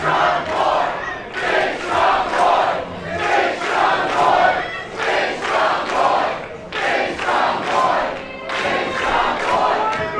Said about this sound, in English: This crowd firmly behind Ethan Price, trying to will him on